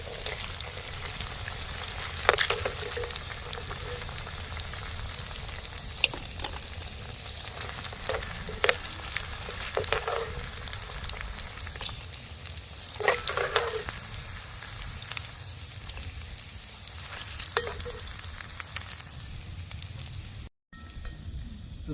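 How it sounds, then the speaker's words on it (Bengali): Cauliflower florets for restaurant-style cauliflower 65 fry in hot oil in a pan, giving a steady close sizzle that runs throughout with a few louder crackling bursts and a brief drop near the end. "সুকান্তদার এদিকে ফুলকপিগুলো ভাজছে অর্ধেক ভাজা হয়ে গেছে প্রায়"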